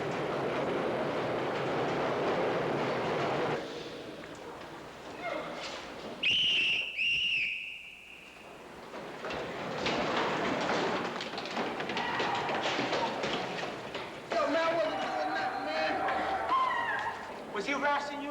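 A train in motion gives off a steady rumble with sharp metallic squeals and thumps, while people talk over it throughout.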